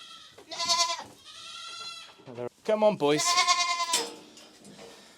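Boer goats on a farm bleat loudly and close by, giving several long, wavering cries one after another while a man calls to them.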